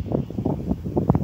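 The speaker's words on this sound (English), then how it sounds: "So it's a bit windy," Gusty wind buffets the microphone at a roadside stop on a motorcycle camping trip, a rough low rumble pulsing in uneven bursts.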